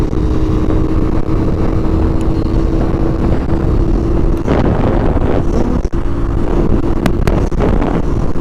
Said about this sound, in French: Ouais, du vent aujourd'hui.